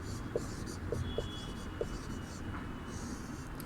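Chalk or marker scratches out a heading on a classroom board in a few faint taps and strokes under a steady low hum.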